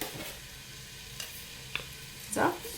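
Chopped onion sizzles steadily as it fries in hot oil in a pot for a fasting-style pumpkin soup, with a few light stirring clinks near the end and no talk.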